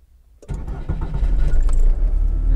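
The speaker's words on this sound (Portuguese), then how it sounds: "Ligou o motor, deu 2 segundos, gerou o alerta." A car engine fitted with a PowerFT ECU cranks and fires after a moment of near silence, then settles into a loud, steady idle rumble.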